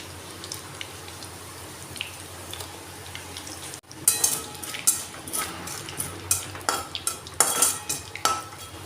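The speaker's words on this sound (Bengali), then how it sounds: "হিংটা আর গোটা গরম মশলাগুলো ভাজা হয়ে গেছে" Whole garam masala, a bay leaf and asafoetida frying in oil for a vegetable curry. A quiet sizzle gives way to a run of sharp spoon scrapes and clinks against the pan, close and rhythmic, with no voices.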